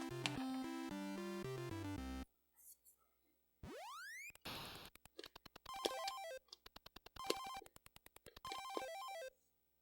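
Jumpman Jr. running on a Commodore 64, with loud chiptune melody, a rising swooping tone, a burst of noise, then rapid repeated blips and short jingles, bright and electronic, with no voices.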